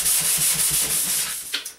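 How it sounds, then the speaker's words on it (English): Steady back-and-forth scraping of 100-grit sandpaper rubbing by hand over flat drywall, rhythmic strokes up close, then a brief pause and a final scuff. "when you're sanding drywall, don't push too hard"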